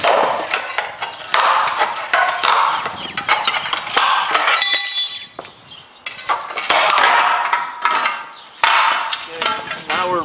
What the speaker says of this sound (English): Just take a pry bar and pry it up.